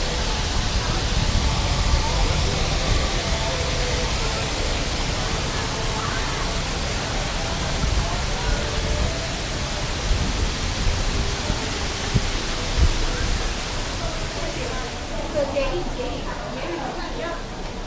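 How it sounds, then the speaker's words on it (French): Large waterfalls beside an old temple in Taipei give a steady, loud broadband rush of falling water, continuous and close, with no clear voices on top. "On a des grosses cascades à côté"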